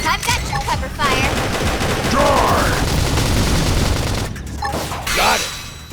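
Continuous heavy gunfire and booming blasts in the game Xenoblade Chronicles X, loud and dense throughout, with voices calling out over the battle.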